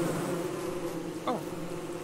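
Bees buzz in a steady, droning swarm in the survival game Don't Starve Together, a continuous close hum that holds evenly throughout with no talking.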